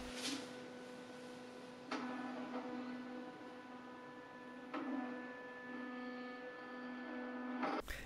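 Toto C5 Washlet electronic bidet seat powering up after being plugged in: a few soft clicks and steady electronic tones and hum, quiet and close, with no talk.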